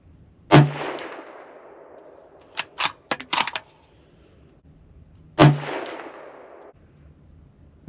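Two loud, sharp rifle shots from a Ruger American Ranch Gen 2 in .350 Legend, spaced about five seconds apart, each with a long rolling echo trailing off, with a few metallic clicks of the bolt cycling between them.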